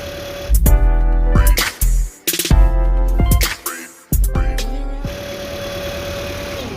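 A Toyota Corolla engine idles loudly up close, with sharp bursts and choppy surges, then cuts out and goes quiet after the battery is disconnected.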